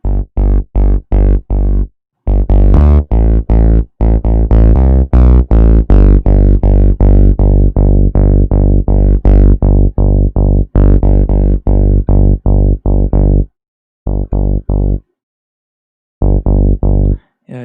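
Synth notes in FL Studio run through a compressed distortion effect, a rapid rhythmic sequence of loud, harmonically rich buzzing stabs pulsing in a techno pattern with short pauses.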